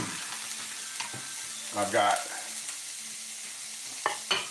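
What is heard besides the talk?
onions sizzling in a frying pan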